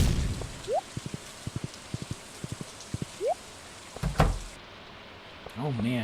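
Rain falls in the Stardew Valley video game as a scatter of crisp taps and drips over a soft wet hiss, with a voice coming in briefly at the end.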